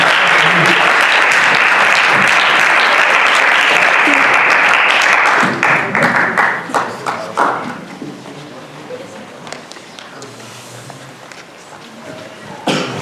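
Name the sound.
audience applause, a hand clap for Jesus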